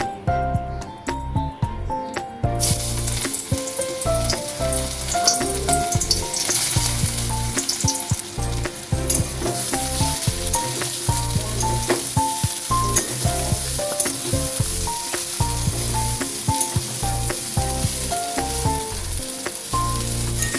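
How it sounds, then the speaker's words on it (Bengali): Soybean chunks fry in hot mustard oil, giving a loud, continuous sizzle and crackle that runs throughout over a steady musical backing, with no talking. "তেল গরম হলে সোয়াবিনগুলো ভেজে নেব।"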